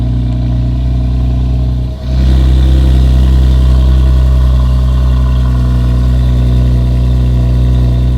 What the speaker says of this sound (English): I can already hear the different tone in this exhaust just from the startup.